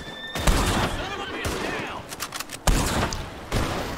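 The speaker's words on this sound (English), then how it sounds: "Cops are shooting at me, dude." Police gunfire rings out in the video game Red Dead Redemption: several sharp, loud shots spaced irregularly over a few seconds, with a horse whinny and game ambience between them and a voice talking in places.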